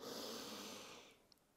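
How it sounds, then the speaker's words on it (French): A long, deep breath, heard as a soft, breathy rush that fades away, comes from someone practising a yoga headstand and is close and quiet. "Prends une longue respiration là."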